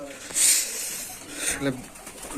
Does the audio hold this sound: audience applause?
no